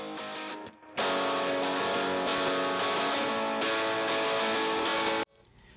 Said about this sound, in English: One of the electric guitars is a lo-fi distorted guitar, and it sounds like this.